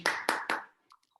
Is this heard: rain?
no